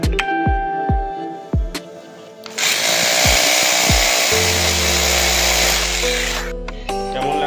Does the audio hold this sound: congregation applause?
no